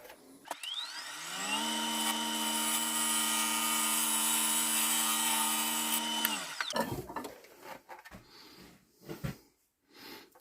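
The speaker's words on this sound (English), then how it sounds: "I think I'm just going to use my bowl gouge just to trim that up a little bit." A bowl gouge trimming an olive wood platter on a lathe: a loud sustained whining, rising hum as the lathe runs for several seconds, then winding down into irregular scraping and knocking sounds.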